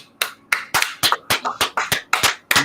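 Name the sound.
round of applause, clapping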